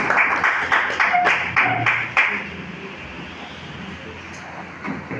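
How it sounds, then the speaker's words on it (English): Scattered clapping from an audience at a record label launch event in Lagos, a burst of hand claps over the first couple of seconds that quickly fades into a quiet room murmur. "A round of applause."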